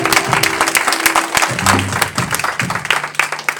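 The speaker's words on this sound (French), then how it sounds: "Acclame Jésus pour elle" A church congregation applauds in a continuous patter of clapping, fairly loud and close, with voices mixed into the crowd noise.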